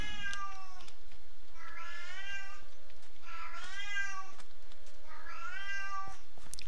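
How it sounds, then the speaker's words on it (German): A cat in a modded Minecraft role-playing game lets out four drawn-out, whining meows in a row, with short pauses between them, clear and close over a steady low background hum. "Ja, meine Katze jammert wieder."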